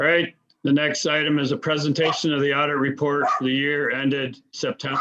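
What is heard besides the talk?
No everyday noises stand out.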